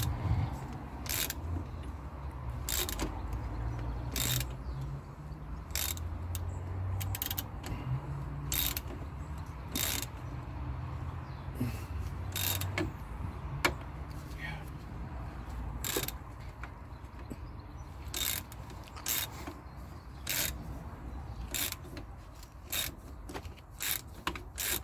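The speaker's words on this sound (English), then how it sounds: "I've set up this puller here. That's the only way I think I can take this pulley out." A puller works a pulley off a car air-conditioning compressor, with repeated sharp ratcheting clicks and metallic snaps at an irregular pace over a low mechanical rumble, close up, with no speech.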